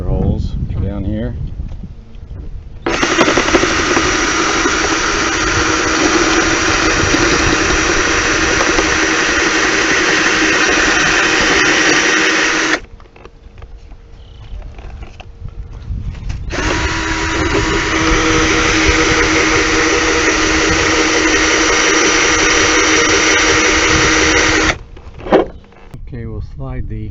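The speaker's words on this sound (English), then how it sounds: "So I'm drilling a hole." A loud power drill whirs steadily while drilling a hole to mount a garden hose hanger, in two long bursts of about ten and eight seconds, with a short pause and clicks between them.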